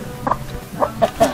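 A few short clucks from a hen, close and fairly loud, spaced irregularly over about a second.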